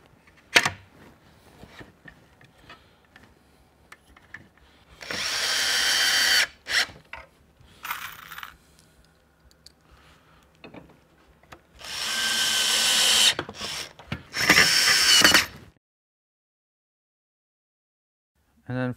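Power drill driving screws into a glued wooden shop drawer, with three loud whirring bursts of a few seconds each separated by quieter handling knocks, ending in silence.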